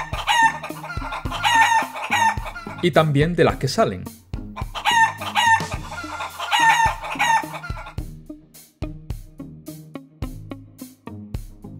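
Chickens and roosters cluck busily and a rooster crows loudly over them in a lively, repeating farmyard chorus. A voice speaks briefly near the end.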